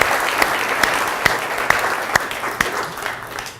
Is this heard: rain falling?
no